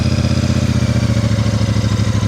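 Royal Enfield Meteor 650 twin-cylinder motorcycle rolling at walking pace on gravel, its engine thrumming in an even, loping low-rev rhythm, close and steady throughout with no talk.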